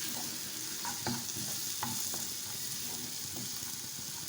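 Dhaba-style chana dal masala, seasoned with amchur and dried fenugreek leaves, roasts in a pan under a constant sizzle, with repeated spatula scrapes and light clicks as it is stirred.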